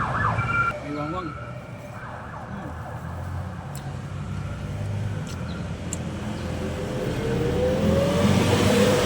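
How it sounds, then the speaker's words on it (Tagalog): A siren wails through steady traffic noise, its rising and falling tone growing louder toward the end over a rumbling engine. "May wangwang."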